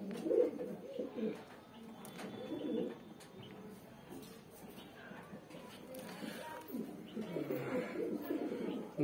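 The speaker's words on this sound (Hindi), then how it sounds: "गोल्डन आंख से निकला हुआ कबूतर है ये" Soft, low cooing of a Madrasi pigeon repeats throughout, fairly quiet, with faint background noise and occasional chirps.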